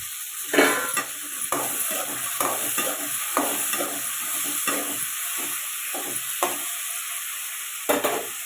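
Tomatoes sautéing with salt in a pan for fish curry: a steady sizzle and hiss under repeated scraping strokes of a spoon against the pan, close and clear, with no talk.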